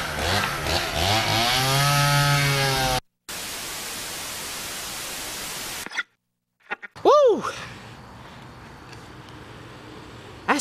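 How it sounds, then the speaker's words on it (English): A chainsaw carving a pumpkin revs loudly up close with a harsh buzzing whine, then gives way to a stretch of rough hissing noise, a short silence and some scattered, swooping sounds. "We gonna carve it using my favorite tool. A chainsaw."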